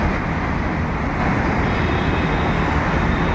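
Highway traffic in Mumbai heard from high above, a continuous broad wash of road noise from many vehicles, steady and moderately loud with no talk.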